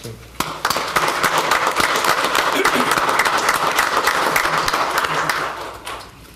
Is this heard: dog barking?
no